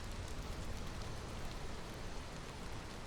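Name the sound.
rain during drizzle season in the video game Against the Storm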